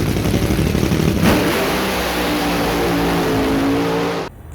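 Nitro-fuelled gasser drag race cars launch side by side at a drag strip, a loud, continuous engine roar that builds and holds close up, then cuts off abruptly near the end.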